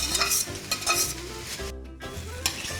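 Steamed vegetables tossed in a hot kadai of thickened gravy over high heat, a steady close sizzle and fry with soft scraping and stirring, briefly interrupted by a short lull.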